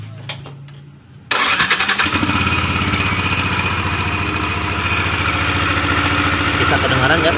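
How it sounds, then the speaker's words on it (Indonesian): A Yamaha NMAX scooter engine with rough running and a rattle inside the engine cranks, catches after a quiet second and keeps running loudly and steadily, a metallic jingling rattle riding over the idle. "Masih ada yang suara ngelincring di dalam mesin sini."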